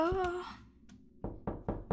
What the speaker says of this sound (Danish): Det banker på.